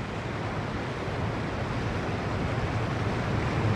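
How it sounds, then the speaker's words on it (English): Floodwater surges through a desert creek bed that had been dry sand, a steady, full rushing roar with no pauses and no voices. "Creek beds that have been dry sand for years become raging rivers in minutes."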